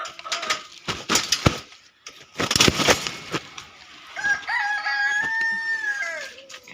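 Chickens cluck in bursts, then a rooster crows with a long, drawn-out call, close by on a small poultry farm.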